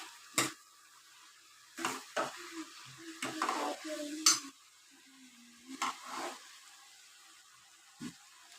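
Greens cooking in a pan as dill-leaf palya, stirred a few times after the lid comes off: several brief scraping, sizzling stirs spaced through a quiet stretch, close and moderately loud, with no talking.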